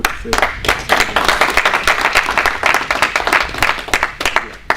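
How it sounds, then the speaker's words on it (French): An audience at a Cameroonian embassy welcome day applauds the ambassador and Mme Essam, loud, close, continuous clapping with distinct sharp hand strikes throughout. "il faudrait que je vous prie d'applaudir l'ambassadeur et Mme Essam"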